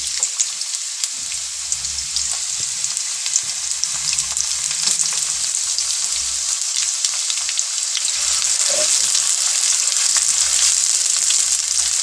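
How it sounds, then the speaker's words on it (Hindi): Sliced onions hit hot oil in a pan for a beetroot mutton curry, giving a bright, continuous sizzle with occasional stirring scrapes. The frying stays close and loud throughout, with no voices. "ऑयल गरम हो गया है, प्याज डाल देंगे।"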